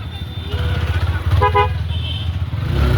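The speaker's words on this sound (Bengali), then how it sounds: "ধার দিয়ে সবাই হুন্ডা নিয়ে বেড়াচ্ছে।" Motorcycles ride along a bank of the flooded Padma river, giving a steady low engine rumble with a short two-tone horn toot near the middle and some faint background voices.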